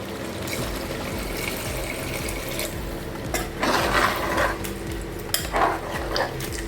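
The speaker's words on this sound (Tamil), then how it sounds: "கொஞ்சமாக தண்ணி விட்டுக்கோங்க." Water trickles and sizzles as it is poured into country chicken gravy in a pan, with a few stirring clinks and a brief louder splash midway, fairly close and alone without talk.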